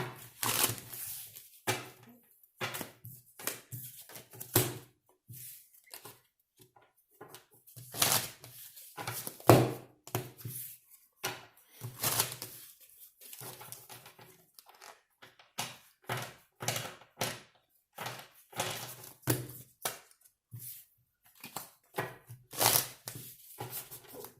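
Tarot cards being shuffled and drawn from a deck, with dense, close, rapid riffling and flicking bursts that come in irregular clusters over a quiet background, with no talk.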